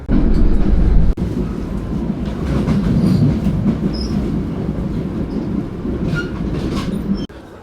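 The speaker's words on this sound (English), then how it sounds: "it's now off to the airport on the train" A passenger train heads to Newark airport, its steady rumble and rhythmic clickety-clack of the wheels filling the ride, loud and close throughout with a brief jolt near the start and no voices.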